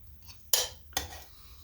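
A metal spoon scrapes and clinks twice against a cooking pot as tender, falling-apart pork chops are lifted out, two sharp close contacts with a quiet pause between them.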